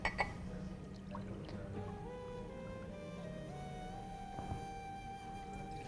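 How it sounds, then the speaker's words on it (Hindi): Water poured from a vessel into a single drinking glass, a steady filling stream whose pitch rises gradually as the glass fills, close and fairly quiet with faint room background. "ये 1 गिलास पानी डाल लिया"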